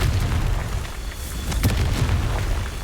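A Confringo spell explodes in the Hogwarts Legacy video game, a muffled booming burst with a crackling sharp pop partway through over a low rumbling bed.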